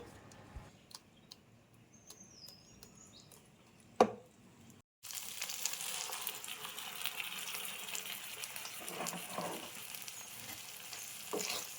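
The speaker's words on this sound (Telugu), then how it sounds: "బ్లెండ్ చేసుకున్న కాజు టొమాటో పేస్ట్ని ఇందులో వేసి కలుపుదాం." Blended cashew tomato paste poured into a pan of fried ingredients for restaurant-style matar paneer curry, a sudden loud sizzle that keeps frying steadily while a spoon scrapes and stirs, after a quieter stretch with a few clicks.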